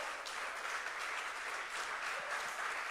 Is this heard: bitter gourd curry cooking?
no